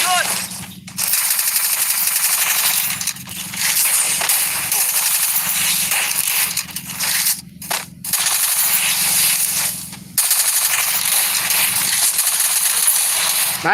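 Rapid automatic gunfire from the video game Free Fire rattles almost continuously at close range, with short gaps between bursts and a constant low hum of game sound beneath.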